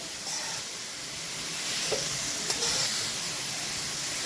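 Grated carrots sizzle in hot ghee as they are stirred for carrot halwa, giving a soft, steady frying hiss close by with faint scraping of the stirring, without talk.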